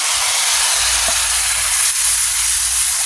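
Tomato added to hot oil for a kadava fish curry gravy gives a loud, continuous sizzling hiss that holds steady, with no talk.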